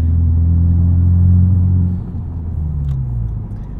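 A modified 2021 Honda Civic Type R with rev matching enabled drones with a loud, low engine rumble heard from inside the cabin while driving, easing slightly after about two seconds.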